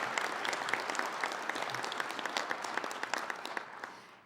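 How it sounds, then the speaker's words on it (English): A conference audience at a trade association's town hall and expo opening breaks into sustained, dense applause from many hands, steady and fairly loud throughout before tapering at the very end. "Let's give them a round of applause."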